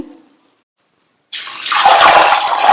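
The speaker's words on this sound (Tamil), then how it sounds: "முங்குற அளவுக்கு தண்ணி சேர்த்திருக்கேன்." Water pours steadily into a pan holding a quarter kilo of green peas, a loud splashing rush that starts abruptly after a short silence and continues to the end.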